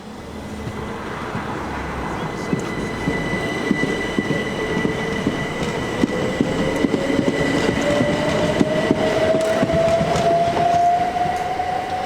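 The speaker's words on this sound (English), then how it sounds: "At time of filming, passenger services are provided by Class 377 electric multiple units." A Class 377 electric multiple unit at Penshurst station on the Tonbridge to Reigate line, rolling steadily with a rising electric whine, rail rumble and faint wheel clatter, close and continuous with no voices.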